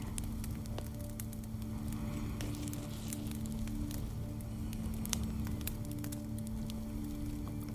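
A fire crackles steadily, a continuous soft roar dotted with sharp, irregular pops and snaps, alone and close.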